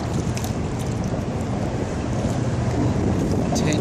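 Steady wind rushes across the microphone while a small yellow kayak is paddled on tidal water, a constant broadband roar with faint water movement, close and loud throughout with no pauses.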